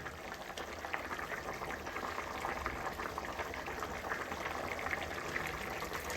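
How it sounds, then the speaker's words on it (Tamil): A pot of spicy radish curry boils steadily, with a dense, even bubbling and hiss that stays at a low, constant level throughout. "கொதிக்குது நல்லா"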